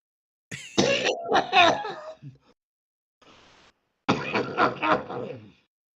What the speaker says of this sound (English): Other than a coughing fit